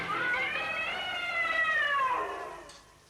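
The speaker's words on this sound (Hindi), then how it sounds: "शेर की मौसी हैं, बिल्ली मौसी।" A cat gives one long, drawn-out meow that rises and then slowly falls. It is fairly close and clear, with no other sound around it, and fades out at the end.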